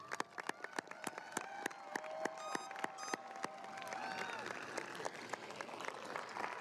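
Standing applause fills a graduation ceremony with dense, scattered clapping. Voices can be heard within the crowd noise, and the clapping thins into a softer, blurred hum toward the end.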